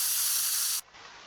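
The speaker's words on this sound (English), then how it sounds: "Did the game change the spray paint to white from yellow?" Spray paint hisses in the video game Teardown, a loud, steady, bright spray lasting under a second before cutting off abruptly into quiet.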